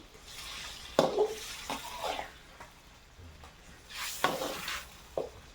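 Vegetables and shrimp being stir-fried in a pan, with soft sizzling under several sharp scraping and clattering strokes of a utensil against the pan at irregular intervals.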